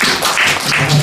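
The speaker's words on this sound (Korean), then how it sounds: "권영성 부장님 박수로 한번 맞이하겠습니다" Audience applause greeting a presenter stepping onto the stage at a PPT template training session, a dense, even patter of many hands clapping close by, steady for about a second with no talking.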